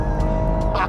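A Stage 2 BMW M140i accelerating hard in manual mode gives a brief, loud, close engine roar with a steady harmonic drone, heard alone.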